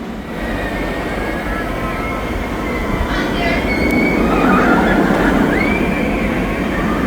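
A Batman roller coaster train climbs the lift hill at an amusement park, a steady mechanical rumble and clatter that grows louder toward the middle, with faint squeals and distant crowd noise.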